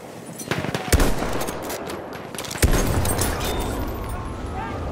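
Machine gun fire in the shooter game Battlefield 1, with dense bursts of rapid shots and a couple of heavy impacts cutting through constant battlefield noise.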